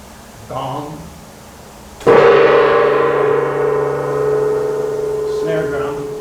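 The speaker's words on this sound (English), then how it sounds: "Gong." A single loud, close strike on the gong of a 1928 Wurlitzer theatre organ in the Fox Theatre percussion chamber, blooming into a long shimmering ring that slowly fades over four seconds after a faint earlier sound.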